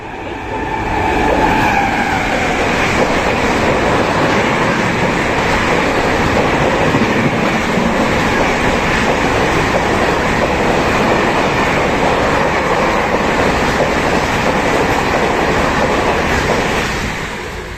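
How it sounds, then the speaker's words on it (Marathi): A fast train speeds through Palghar railway station, its loud, steady roar and rumble filling the whole stretch from start to finish with no break. "Platform number 1 fast train will be passing through"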